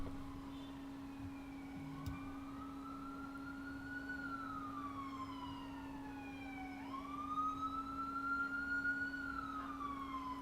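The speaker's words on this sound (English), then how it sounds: "there's sirens in the background on the scene there" Emergency vehicle sirens wail in the distance, a slow rising and falling tone sweeping up and down over a steady background hum, fairly faint throughout.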